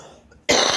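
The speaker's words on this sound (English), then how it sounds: "Oh, I nearly got through the whole one without coughing." A single sudden, harsh cough bursts out close to the mic after a moment of near quiet.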